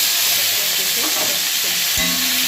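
A medium tomato fries in a pan with bay leaf, cardamom, cinnamon and cumin, producing a loud, dense, continuous sizzle with a brief stirring scrape near the end.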